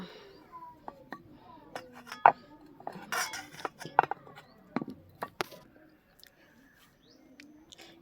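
Roti dough is rolled out on a board, giving sparse soft knocks, clicks and rolling-pin taps in an irregular rhythm, close and fairly quiet, with faint household background between strokes.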